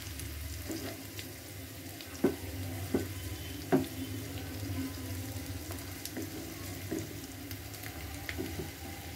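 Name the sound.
paneer frying in pan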